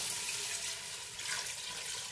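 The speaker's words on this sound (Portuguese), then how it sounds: "Eu vou adicionar água até cobrir a costela." Tap water pours steadily into a pot of beef ribs, a soft, even rush of liquid heard close with no voices.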